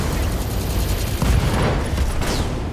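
Mech machine guns firing in the BattleTech video game, a dense continuous burst of rapid gunfire layered with heavy rumbling explosions, loud throughout.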